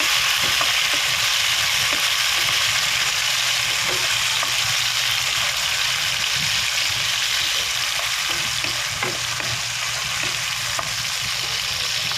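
Chopped tomatoes frying in a pan of golden-browned aromatics for squid adobo, giving a steady, close sizzle with light stirring scrapes that run evenly throughout, with no voices.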